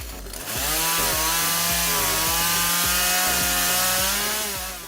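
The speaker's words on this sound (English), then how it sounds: "you just need to put the log into the machine and cut it without any impact on machine control" Homemade semi-automatic firewood splitter cutting through large logs, a loud continuous mechanical roar with repeated rhythmic knocks as the machine works steadily through the wood.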